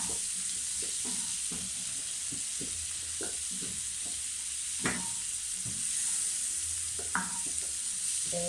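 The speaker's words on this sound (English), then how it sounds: "now I've added my onions, you know, added my onion in there" Onions frying with meat in a hot pan, a steady close sizzle running throughout, with occasional scrapes and clinks of stirring.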